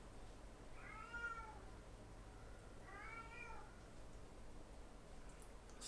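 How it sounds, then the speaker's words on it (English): Two drawn-out, rising-and-falling cat yowls, a couple of seconds apart, fairly faint against a quiet room hum. "Clawing at the door will not make it happen. Well, if you hear yowling, he's fine."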